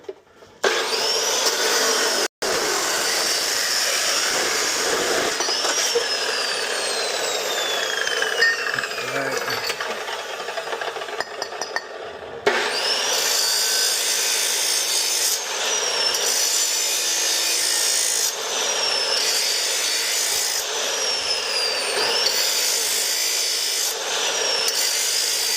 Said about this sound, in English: I always bring my saw blade down just to touch the Sharpie mark.